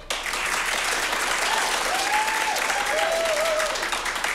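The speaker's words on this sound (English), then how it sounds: "clap for everybody, but clap loudest for the movies that you would like to see continue" A crowd applauds loudly and steadily for several seconds, with a faint whistle or cheer rising through the clapping.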